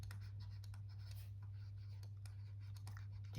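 Chalk or marker scratching out equations on a board in a lecture setting, a run of short irregular strokes, faint and close over a steady low electrical hum.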